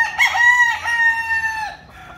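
A single loud rooster crow, close by, rising then trailing off over about two seconds.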